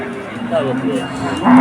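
A cow at a cattle market lets out a low, drawn-out moo close by, with a faint murmur of people in the background.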